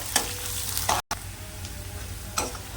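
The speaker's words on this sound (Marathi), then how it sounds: "आता कांदा आपल्याला हलकासा ट्रान्सपरंट करून घ्यायचा" Onions frying lightly in a pan until translucent, giving a soft, low sizzle with a few brief scraping stirs near the start and end, fairly quiet and close.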